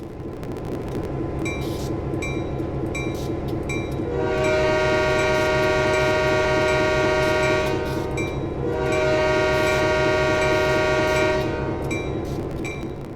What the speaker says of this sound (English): it is a very generic horn sound